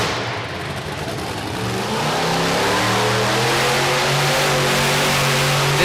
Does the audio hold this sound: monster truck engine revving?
yes